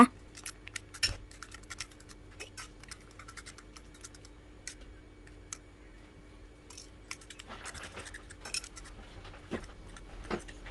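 A fork beats eggs in a bowl with instant noodle seasoning oil and powder for a noodle omelette, giving quick, uneven clicking taps against the bowl that come close and clear with no talking.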